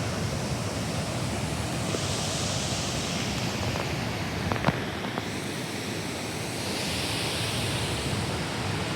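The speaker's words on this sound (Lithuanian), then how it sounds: "Miruša kriokliai." Mirusha waterfalls in Kosovo give a steady, broadband rush of falling water, constant and fairly loud throughout, with a few faint brief clicks near the middle and no talking.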